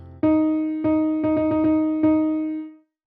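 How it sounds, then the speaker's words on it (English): A nested tuplet rhythm is played on a single sustained pitched tone: a few longer notes framing a quick cluster of closely packed strikes in the middle, all at the same pitch, ringing clearly and then fading. "And now a nested tuplet."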